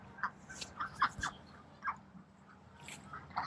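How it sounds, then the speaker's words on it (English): Khaki Campbell ducks outdoors give a scatter of short, fairly faint quacks and calls at irregular intervals, some overlapping, against a quiet background. "Well, looks like only the ducks are out right now."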